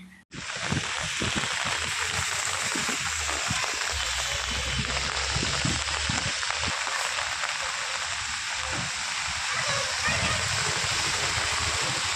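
Heavy rain pours down on flooded low-lying streets of Kayamkulam, a dense, unbroken roar of falling and splashing water close by, with voices faintly underneath.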